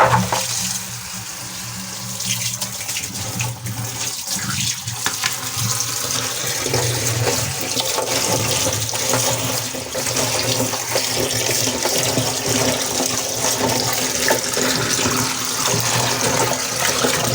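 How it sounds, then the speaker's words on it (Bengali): Pumpkin seeds and jackfruit seeds are washed by hand in water in a village kitchen: a steady, fairly loud rush of running, splashing water with no talking throughout. "এই যে পুরো আমার মিষ্টি কুমড়ো এবং কাঁঠালি বীজি ধুয়ে নিছি।"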